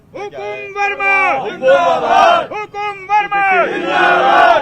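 A crowd shouts slogans in loud, rhythmic unison, voices rising and falling in repeated chant-like bursts close by.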